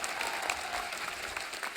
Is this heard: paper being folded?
no